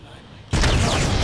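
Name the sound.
explosion in the video game Uncharted 2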